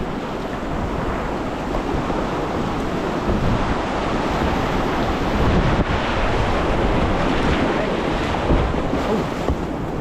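Whitewater rapids on the lower James River roar in a loud, steady rush while a boat runs straight through them, broadband noise constant for the whole stretch with some wind buffeting.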